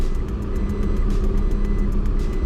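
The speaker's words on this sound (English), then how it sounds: "Back it up a little bit. Give her some gas." A tiny Daihatsu Midget II truck pulling away, its small engine giving a steady, loud, close rumble with a rhythmic pulsing throb that holds even throughout.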